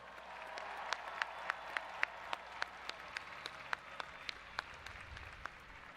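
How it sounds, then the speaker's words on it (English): Applause from a crowd at a University of Michigan commencement in the Big House stadium, a faint, distant wash with a few louder individual claps ringing out at a fairly even pace above it. "let's give them one more louder round of applause"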